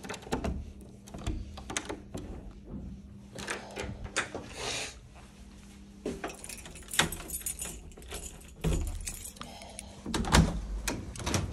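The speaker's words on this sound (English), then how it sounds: "Just get the keys for it." Keys jangle and clatter faintly at close range as a door is unlocked at a house move-in on a rainy day, with scattered metallic clicks, knocks and rustling handling noises.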